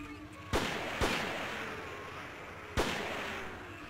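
Three sharp, booming gunshots ring out in the survival horror game Forbidden Siren. The first two come close together and the third follows after a pause, each with a short, echoing tail over a quiet background.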